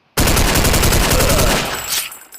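Rifle gunfire from Counter-Strike using the secondary attack mode: a loud, rapid burst of shots rattling continuously for about a second and a half, then tailing off into a short echoing decay.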